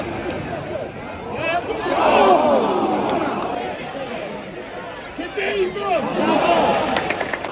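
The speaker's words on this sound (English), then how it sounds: "The crowd were up for it" Football stadium crowd at a Nottingham Forest match against Brighton, a roaring mass of chanting and shouting voices that swells and falls in waves, distant and sustained.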